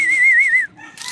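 A single clear human whistle calling pigeons, held and slightly wavering in pitch, sounds for about half a second, then drops off into quiet background noise.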